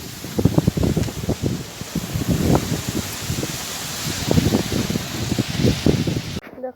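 Strong wind ahead of unseasonal rain in rural Odisha, rustling and shaking trees and leaves in a steady broadband hiss with repeated bursts of crackling rustle, moderately loud and close.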